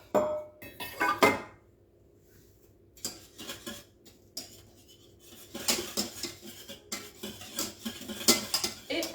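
A utensil clinks and scrapes against a bowl in bursts of rapid tapping, separated by short pauses, while cream is mixed with gelatin for a vanilla and white chocolate yule log. Close, clear kitchen sounds with no talking.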